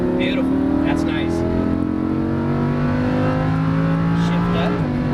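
A Lamborghini Huracan accelerates on a race track, its engine note climbing steadily through a long rising pull, heard from inside the car, with an instructor talking over it.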